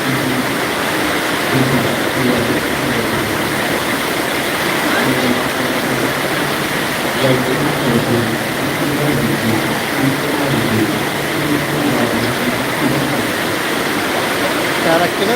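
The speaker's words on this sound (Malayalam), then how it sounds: "ആ ഡാമിൽ നിന്ന് വെള്ളം ഇങ്ങനെ പുറത്തേക്ക് ഇങ്ങനെ ഒഴുകിക്കൊണ്ടിരിക്കുന്നത് ആണ്" A dense, steady roar of water gushing out of an opened dam fills the whole clip without pause, loud and unbroken like a torrent pouring through a spillway.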